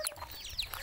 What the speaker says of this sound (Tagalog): Ito, mga manok dito.